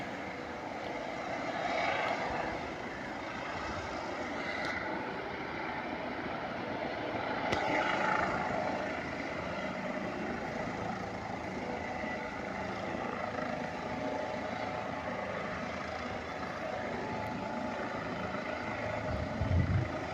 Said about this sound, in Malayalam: ലാൻഡ് ചെയ്യാൻ പോവാട്ടോ അവിടെ ഹെലിപ്പാഡ് ഉണ്ട് അവിടെ ലാൻഡ് ചെയ്യും